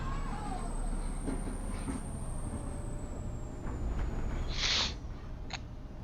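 Volvo B7TL ALX400 double-decker bus driving in the OMSI 2 simulator, a steady engine drone with a rising whine and a sharp hiss of air brakes near the end.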